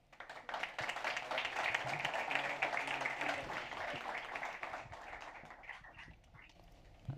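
An audience applauds as speakers are welcomed onto a stage, a fairly faint, even patter of many clapping hands that swells and then slowly tapers off.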